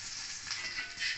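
Ghee sizzling in a pan with caramelized sugar, a short, even hiss with light crackle, close and moderately quiet.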